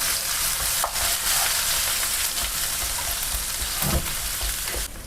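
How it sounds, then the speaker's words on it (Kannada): Green chili, ginger and garlic paste fries hard in a pan for a Mumbai-style vada pav filling, a loud continuous sizzle broken by scraping stirs and the clink of a spoon against the pan. "ಪೇಸ್ಟ್ ಹಾಕ್ಕೊಂಡು ಚೆನ್ನಾಗಿ ಮಿಕ್ಸ್ ಮಾಡ್ಕೊಳ್ಳೋಣ"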